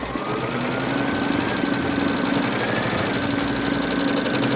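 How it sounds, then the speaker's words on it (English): An embroidery machine stitches an appliqué outline onto a kitchen towel in its hoop, giving a steady, rapid mechanical chatter with a constant hum, close and continuous with no voices. "And then we are going to stitch out our embroidery outline."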